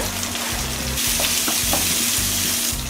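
Onions frying in a pan for a lake fish curry, a loud continuous sizzle close up with occasional stirring scrapes throughout.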